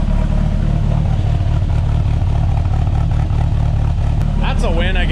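A car engine idles steadily just after a cold start, a smooth low rumble running throughout at close range, with a brief higher whine near the end.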